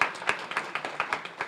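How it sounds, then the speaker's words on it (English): Small audience at a school community press event clapping steadily, a regular run of crisp, moderately loud claps from a modest group, no voices over it. "Give her a round of applause."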